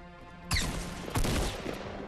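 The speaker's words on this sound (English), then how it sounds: "They're shooting me." Gunfire in the video game Fortnite Battle Royale, two loud close bursts of rapid shots about half a second apart, against quiet game ambience.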